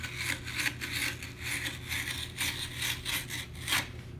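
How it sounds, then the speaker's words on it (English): A razor blade scrapes steadily along marked lines in foam board, a continuous close rasping cut with slight rhythmic pulses, no voices. "So what I do is use a razor blade, and I'll just kind of go right along my lines here."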